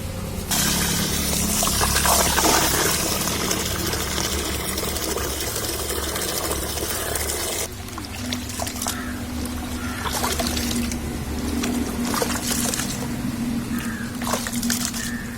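Raw ration rice being washed in water by hand for murukku flour, with continuous sloshing, swishing and trickling water that grows louder and splashier in the second half. No talking.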